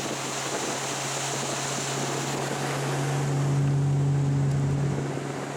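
A speedboat runs between islands, its engine holding a steady low drone that rises slightly in pitch near the end, under a constant wash of wind and water rushing past the hull, with no voices.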